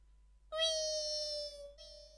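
A performer's voice imitates a cat meowing while fish is being cut, one long drawn-out nasal meow followed by a shorter second cry, close and clear on a comedy stage.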